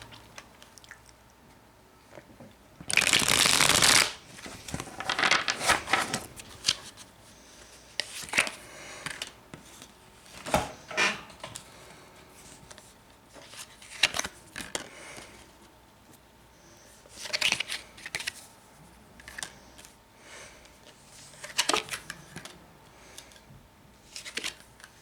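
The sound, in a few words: shuffling tarot cards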